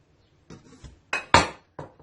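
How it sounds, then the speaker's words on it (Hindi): Fenugreek seeds and kalonji (nigella seeds) tipped into a bottle for homemade hair oil give a few short, close rattling pours: a softer patter, then two louder gritty rushes and a final brief spill, with no voices. "ये मेथी दाना और कलौंजी सारा आप बोतल में डाल दें।"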